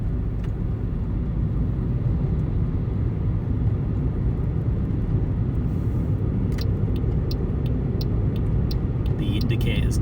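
Cabin noise in a Toyota Aygo driving just above 30 mph is a loud, constant broadband road and engine roar, with a few faint ticking clicks appearing later on.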